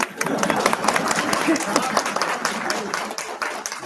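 Audience clapping at a Holy Mother Sri Ma birthday celebration, a sustained patter of many hands, moderately loud and close, continuing steadily through the clip.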